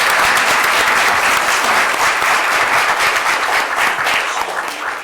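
A full room breaks into sustained applause at a county board of supervisors meeting, dense, loud clapping holding steady for several seconds before beginning to fade.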